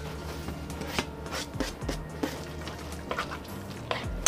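Coriander and scallions being chopped with a knife on a board in a home kitchen, a close series of quick, uneven blade taps over a soft background hum, with no voices.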